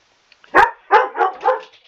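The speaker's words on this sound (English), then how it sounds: "Sorry about the dogs." Dogs barking nearby, a sharp first bark followed by three quicker barks in an uneven run, loud and alone with no talking.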